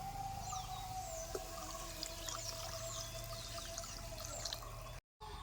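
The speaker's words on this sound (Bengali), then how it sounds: "এবার আমি দিয়ে দেবো জল" Water poured into a pan of fried spices for a Bengali puka fish curry, a soft continuous pouring and trickling stream, close but quiet, ending abruptly near the end with no speech.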